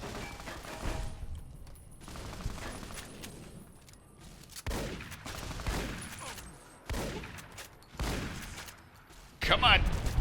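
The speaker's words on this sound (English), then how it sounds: "we're just gonna shoot you a lot" Gunfire from the video game Fallout: New Vegas, repeated bursts of shots coming in several clusters over ten seconds, loud against a busy game backdrop with a voice talking in between.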